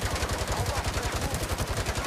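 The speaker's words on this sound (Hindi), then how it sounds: "ओ भाई, उसकी शील्ड पे गोलियां लग रही है सारी।" Rapid bursts of automatic gunfire in the Gangstar open-world video game, rounds striking an enemy's shield in a steady, fast rhythm, loud and continuous.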